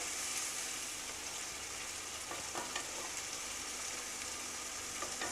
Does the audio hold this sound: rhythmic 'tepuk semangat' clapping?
no